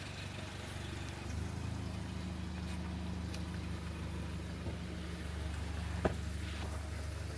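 A car that has just arrived in Pattaya, Thailand idles close by with a continuous low, steady rumble. A sharp click sounds near the end.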